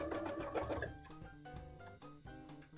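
A sewing machine stitches a bra with a close, rapid mechanical whir and clatter. The sound runs almost continuously, with a few brief dips in speed, and no voices are heard.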